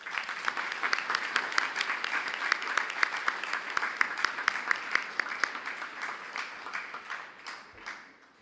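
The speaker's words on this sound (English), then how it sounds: "with a round of applause." An audience at a citizens' gathering for the Jasper community applauds, many hands clapping steadily with some sharp individual claps standing out, sustained for several seconds before gradually thinning and fading near the end.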